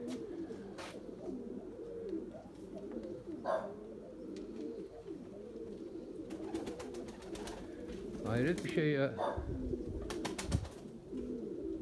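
Pigeons, among them white racing birds, coo repeatedly at close range in a loft yard, a steady low murmur, with someone talking briefly over them.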